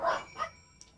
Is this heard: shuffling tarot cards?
no